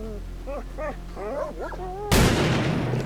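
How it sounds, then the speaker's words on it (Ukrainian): Dogs roam in a video game world, giving a series of short, close, rising yelps and whines, cut off by a sudden loud crack like a gunshot. "бо тут всякі песики бігають"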